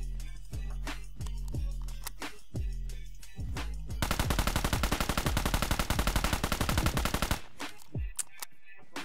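Bursts of gunfire in Metro Royale, a few spaced heavy shots, then a long rapid automatic stream, and a couple of final shots, loud and close.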